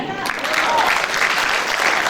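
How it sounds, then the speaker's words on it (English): Cultural show audience in Melbourne clapping loudly, a dense, sustained burst of applause from a large crowd with no talking over it. "please give a big round of applause for people coming from all the way from New Zealand"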